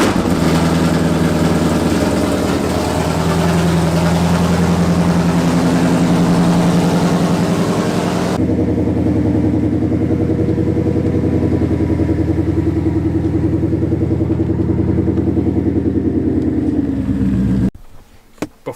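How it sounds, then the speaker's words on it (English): A Whipple-supercharged Mustang engine cold-starts on ethanol and settles into a loud, steady idle that runs on, drops to a lower, quieter note partway through, then cuts off near the end. "See if it cold starts now with the ethanol."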